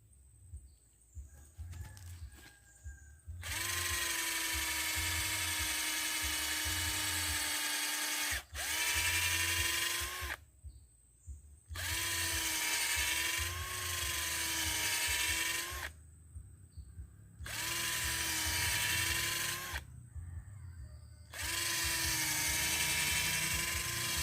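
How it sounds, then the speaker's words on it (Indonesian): A power drill bores into the trunk of an eight-year-old agarwood tree in several long whining bursts separated by brief pauses, loud and close. "langsung kita bor"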